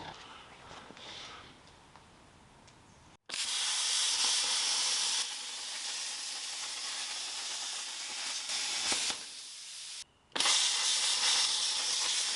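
A Hypertherm PowerMax 30 plasma cutter cutting steel, a loud steady roaring hiss that starts abruptly after a quieter stretch, holds for several seconds, cuts out briefly and then resumes.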